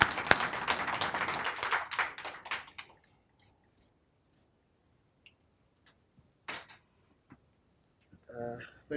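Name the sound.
audience applauding a speaker coming to the stage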